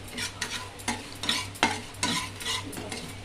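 Samba rava and flattened rice for payasam are stirred and roasted in ghee, with repeated scraping strokes of a spoon against the pan over a soft sizzle, close and fairly quiet.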